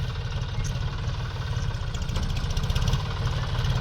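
A tractor engine runs steadily while filling farm pits with manure, a loud close rhythmic diesel throb that holds even with slight rises.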